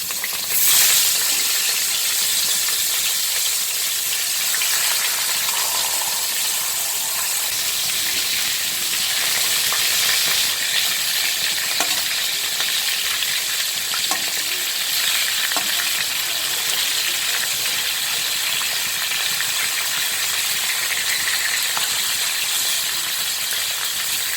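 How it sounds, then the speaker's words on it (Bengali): A fish head fries in hot oil, producing a loud, dense, continuous sizzle that holds steady for a long stretch, with faint scattered crackles and stirring clicks. "এবার আমি মাছের মাথাটা ভেজে নেব।"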